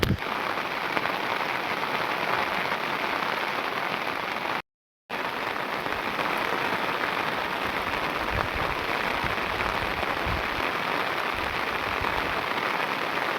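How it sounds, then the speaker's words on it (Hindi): Heavy rain pours down in an Uttarakhand forest, a dense, steady hiss and patter on surfaces, close and loud throughout, broken once by a brief gap. "इतनी झमाझम बारिश लग रखी है दोस्तों, ये देखो भाई, तगड़ी वाली बारिश लग रखी है"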